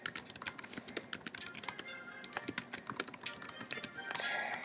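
Typing on a computer keyboard during a Town of Salem game session, a close, fairly quick irregular run of clicky keystrokes with short pauses, alone without speech.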